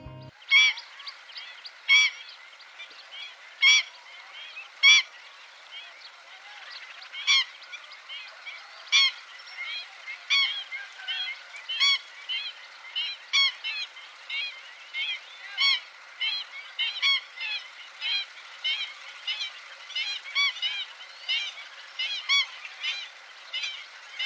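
Black-winged stilt calling at a wetland, a long series of sharp, nasal, yelping notes repeated in irregular bursts, clear and moderately close over a quiet background.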